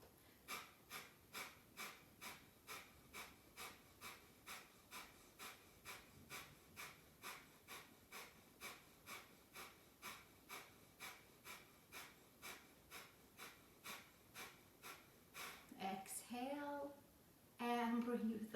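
Rapid, rhythmic fire-breath pumping during a yoga class: sharp, even nasal exhales repeat about twice a second for many seconds, then give way to a longer, louder inhale and exhale.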